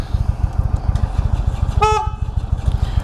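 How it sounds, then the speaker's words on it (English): Horn of a 2016 Indian Roadmaster touring motorcycle, one loud blast lasting a fraction of a second, heard close over the steady rhythmic throb of the idling V-twin engine. "Very loud horn."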